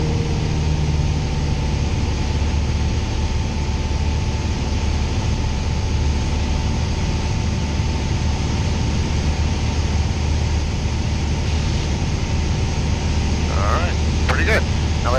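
A light aircraft engine drones loud and steady through the cockpit during a flight lesson, a constant broadband roar that never lets up while an instructor talks over it.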